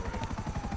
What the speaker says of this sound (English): there's another guy now in a green helicopter